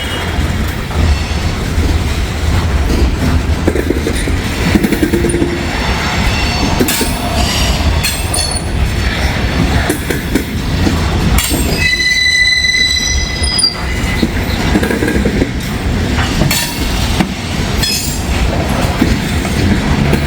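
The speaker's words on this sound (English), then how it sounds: "I see the intermodal. He is coming around awful quick." An intermodal freight train rolls past at close range with a constant heavy rumble and clatter, and its wheels break into sharp, piercing squeals partway through.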